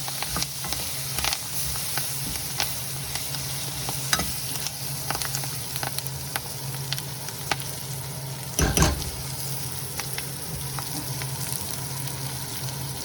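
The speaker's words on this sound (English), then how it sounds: "So this is my tadka. Give it a little stir, cook it for a few minutes." A tadka of onion and garlic sizzles steadily in a pan for puli kulambu, with intermittent stirring scrapes and clinks close by and no voices.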